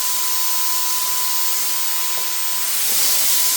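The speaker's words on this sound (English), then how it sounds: "this gun is it does have the actual power right here, and it does air all the time" A Phalanx Turbine 2.0 electric spray gun with oversized tip blows air constantly, a steady loud broadband hiss with a thin whine, unbroken for a few seconds and swelling slightly at the end.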